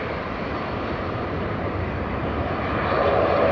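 A Qatar Airways heavy jet coming in to land at Manchester Airport makes a dense, close engine roar that grows slightly louder toward the end.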